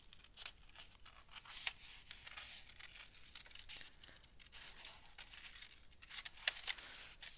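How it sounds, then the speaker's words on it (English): Scissors fussy cutting around the edges of paper for mixed media paper dolls: a steady run of soft, close snips and crisp paper rustles, faint and repeated, with no voices. "I'm going to fussy cut this edges out."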